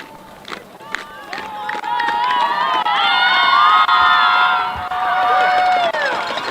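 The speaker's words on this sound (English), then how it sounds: "so we'll do one more cheer" A women's U18 football team cheers together at a national tournament, a burst of many voices shouting and rising into a sustained loud yell before fading, with some footsteps and talk around it.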